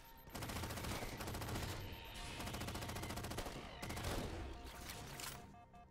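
Sustained bursts of automatic gunfire from a Halo 4 firefight, loud and dense, with rapid repeated shots running almost continuously through the stretch and brief lulls between volleys.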